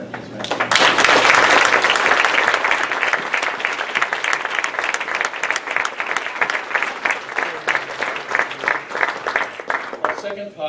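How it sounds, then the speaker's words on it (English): An awards-ceremony audience at a theatre awards event gives sustained applause in memory of a posthumous honoree, dense steady clapping from a large crowd that stays loud throughout and tapers slightly near the end. "so that he can appreciate this applause that we now offer in his memory"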